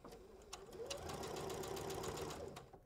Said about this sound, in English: I'm going to be sewing straight across this diagonal line that I drew.